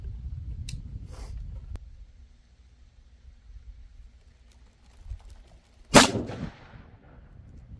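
A single rifle shot from an Aero Precision Solus during load development with a 43.1-grain charge, one sharp loud crack with a brief decaying echo, set among quiet handling noises.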